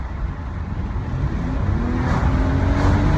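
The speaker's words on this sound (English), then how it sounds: "I'm gonna give it some gas just for a little bit, see how it reacts." A tuned 2017 Audi Q7 3.0T with a Stage 1+ tune accelerates, the engine note climbing steadily and growing louder over a few seconds, heard from inside with no talking.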